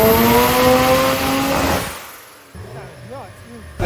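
A rotary-engined Subaru BRZ on a dyno screams at high revs with a steady harmonic whine, then cuts off abruptly into a quieter stretch where a voice talks over a low idle.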